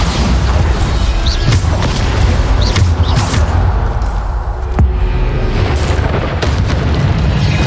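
Bombarda spells fired in the video game Hogwarts Legacy erupt as loud, heavy booming blasts that rumble continuously and overlap with crackling debris, filling the whole stretch with dense explosive noise.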